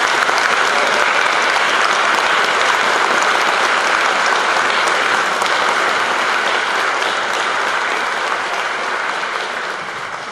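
An audience at an ecumenical carol-singing event applauds in a sustained, dense, loud round of clapping that fades slightly toward the end.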